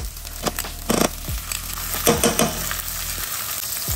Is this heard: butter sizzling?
yes